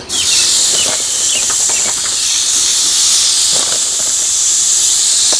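Seasoned slider burgers sizzle loudly on a hot Ninja Woodfire grill, a strong, steady hiss that runs the whole time with small crackles and pops scattered through it, close to the grill and with nobody talking.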